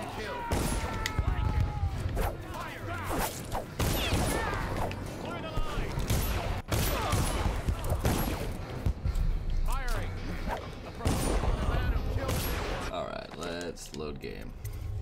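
Gunshots from a musket volley in Dishonored: Definitive Edition, sharp cracks scattered through a busy game scene with shouting voices and constant talk over them.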